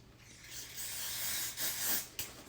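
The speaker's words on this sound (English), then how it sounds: "I'm also going to spray around this part right here" Hissing bursts of spray aimed at Louis Vuitton vachetta leather, several short close puffs of aerosol mist in succession with no talking.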